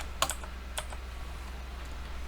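Keys clatter on a computer keyboard in a few quick bursts of typing, close and fairly quiet over a low steady hum, with no talk.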